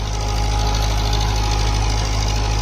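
A 60HP tractor engine pulls a rotavator at high speed in a field, a loud, constant rumbling drone with a rapid mechanical chatter and no voices over it.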